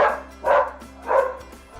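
Several dog barks come in two louder bursts over about two seconds, fairly close, with a steady low hum underneath.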